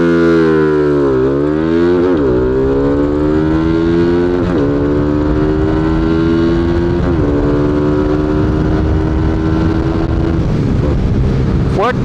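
A Rusi Flash 150X motorcycle accelerates hard from a standstill toward 100, its engine note climbing in repeated rising sweeps as it runs up through the gears, loud and close for the whole run.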